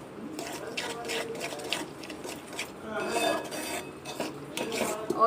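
A utensil scrapes and clinks against a pot while seeds are stirred into cooled sugar syrup, a close irregular rasping and tapping with no voice.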